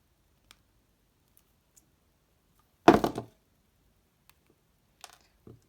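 Rainbow Loom craft wire is trimmed shorter with a cutter: one sharp, close snip in an otherwise quiet room, with a few faint ticks around it.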